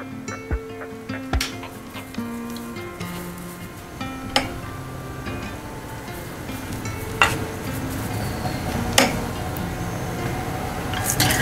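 An onion cheese paratha roasts with ghee on a hot griddle, giving a steady close sizzle broken by a few light scrapes and clinks of a spatula.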